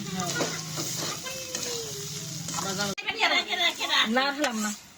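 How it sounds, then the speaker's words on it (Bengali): Chicken meat sizzles and hisses steadily in a hot pan while being stirred for a mashed chicken dish, with voices talking over the frying throughout. "মাংস কি ভাজা হয়ে গেছে নি নাকি এখন নামাইবে না আটু ভাজা ভাজা করে তারপর নামাইবে"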